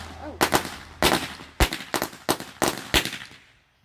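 Black Cat firecrackers go off outdoors in a rapid string of sharp cracking pops, about eight loud bursts in irregular rhythm before fading out.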